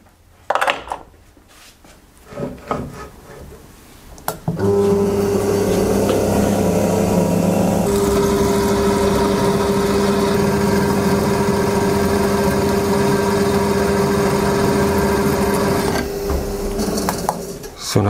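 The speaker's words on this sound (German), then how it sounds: "So, nachdem wir das Ganze dann gebohrt haben," A drill bores through a steel chain lubricated with cutting oil, a steady loud whirring grind running about eleven seconds after a few quieter clanks and handling knocks at the start.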